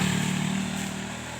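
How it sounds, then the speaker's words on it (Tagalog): Motorcycles pass on a road, a loud droning engine hum that is strongest at the start and slowly fades as they move away. "Mga motor lang yan."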